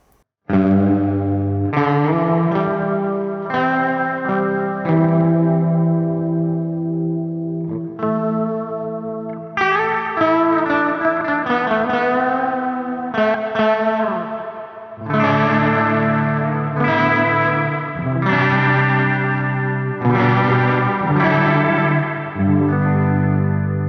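Distorted electric guitar chords played through a large hall-style reverb, each strum ringing out and blooming into a wide, lingering wash.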